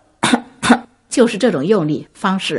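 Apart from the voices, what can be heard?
cough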